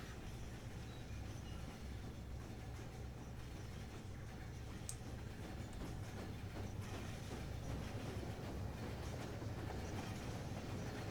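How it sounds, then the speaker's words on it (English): A locomotive in the Rolling Line model railway game pulls into a staging yard, giving a steady, fairly faint rumble of rolling train wheels that runs on continuously without pause and with nobody talking. "Pulling into the staging yard. A lovely locomotive here."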